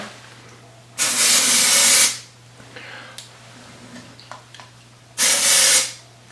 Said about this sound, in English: Let's spray some mold release in there.